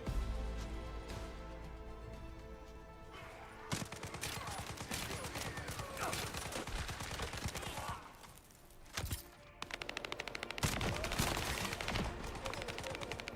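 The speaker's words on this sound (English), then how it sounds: "The more I use this SMG, the more I'm actually kind of liking it." Sustained SMG fire with electric damage in the video game The First Descendant, with long rapid automatic bursts that rattle almost continuously, loud and dense, broken by a brief pause near the end.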